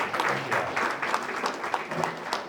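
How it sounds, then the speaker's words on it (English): An audience at a public community meeting in an elementary school claps in a short, lively burst. The round sits close, with voices mixed into the clapping. "give them a round of applause"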